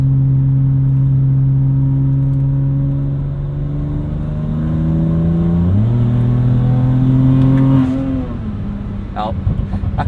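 A 2008 BMW 335xi turbocharged engine pulls hard in sport mode in fourth gear at part throttle, its droning note climbing steadily in pitch, stepping at a shift, then easing off near the end.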